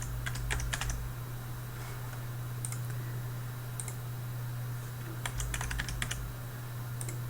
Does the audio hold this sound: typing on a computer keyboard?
yes